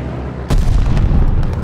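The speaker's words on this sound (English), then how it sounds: "Allies called a bombing run." A bombing run strikes on the Casablanca map of Call of Duty: Vanguard: a sudden heavy explosion hits after a brief quiet, then gives way to a loud, rolling rumble of further blasts.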